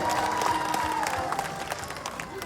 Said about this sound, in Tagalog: Palakpakan nato inyong mayor.